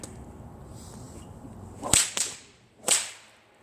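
A bullwhip doing a fast figure eight gives three sharp cracks, a pair close together followed by a single crack about a second later, loud against a quiet background.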